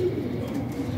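A Golden Kamagar pigeon coos softly in a low, rolling murmur, close and brief.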